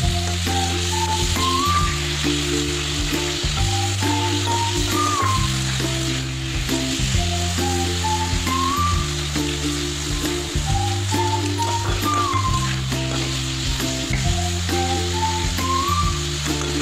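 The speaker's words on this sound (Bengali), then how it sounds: "অল্প পরিমাণ তেল দিয়ে চিকেনটা রান্না করে নেব।" Chicken fries in a small amount of oil in a pan on a home stove, giving a steady, close sizzle throughout with a tuneful melody playing underneath.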